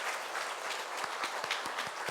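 A church congregation bursts into sustained applause after a call to bless a couple, with dense steady clapping and scattered louder claps throughout, no voices.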